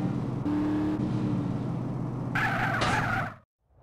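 Car in Grand Theft Auto: San Andreas driven fast, a steady engine drone with tyre noise that rises into a brighter screech near the end before cutting off abruptly to silence.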